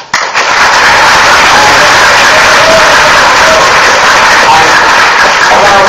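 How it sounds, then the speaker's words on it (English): Audience at a gaming event presentation bursts into loud, sustained applause that fills the whole stretch, dense and close, with scattered cheers mixed into the clapping. "So round of applause."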